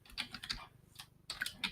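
Fingers tap quickly on a computer keyboard while typing a command on a Windows Server 2019 machine, with short bursts of close, crisp keystrokes separated by brief pauses.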